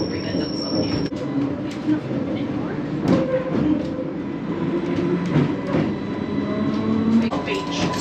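A train pulling into Ryde station on the Isle of Wight, a steady rumbling rail roar with wheel squeal and clatter throughout, heard from on board under faint talk.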